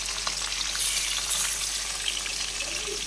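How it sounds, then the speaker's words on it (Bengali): Meat sizzles and fries in a pan on a home gas stove, a steady close crackling hiss with small bursts of spattering, no voices. "ওইদিকে মাংস ভাজা হচ্ছে"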